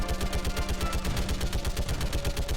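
Rapid automatic gunfire from a weapon in Mass Effect 3, fired at a live Reaper at a Reaper base, a steady stuttering stream of shots running the whole time, loud and close with no talk.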